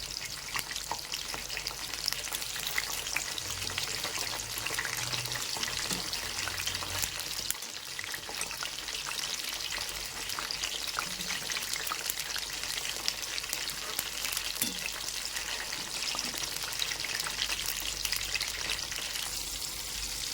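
Whole eggplants frying in oil in a kadhai, a loud, steady, dense sizzle with faint scraping and shifting as they are turned, close and continuous with no talk.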